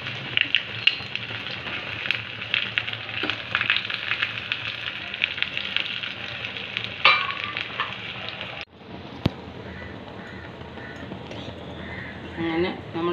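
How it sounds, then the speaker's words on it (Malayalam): Mustard seeds frying in hot oil for tempering a jackfruit seed curry, a dense crackle with sharp pops over a continuous hiss, dipping briefly partway and then settling into a quieter sizzle. "കടുക് വറുത്ത് എടുക്കാം."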